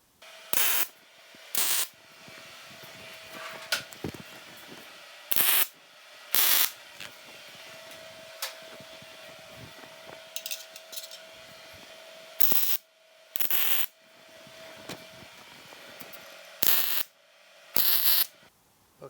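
Short bursts of tack welding on a DIY car rotisserie frame, each broadband crackle lasting about a second, repeated roughly ten times with pauses between and a steady faint hum running underneath.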